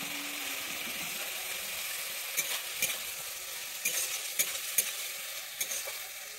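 Chopped tomato with turmeric and salt fries steadily in a pan, a continuous soft sizzle broken by a few sharp scraping stir strokes from a utensil, close and fairly quiet, with no talk.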